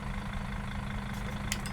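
An articulated Volvo bus engine idles in the OMSI 2 bus simulator, a steady low diesel rumble with a faint hiss near the end.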